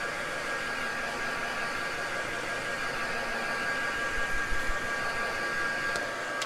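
A hair dryer blows in a steady, loud, broadband whoosh as it dries paper in a mixed media craft project, running close and continuously with no talking.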